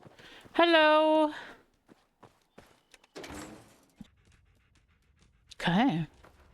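Dogmeat, the dog companion in Fallout 4, pants in brief bursts between stretches of voices, with door and footstep noises nearby.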